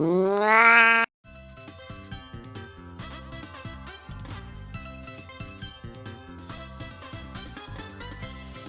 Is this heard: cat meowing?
yes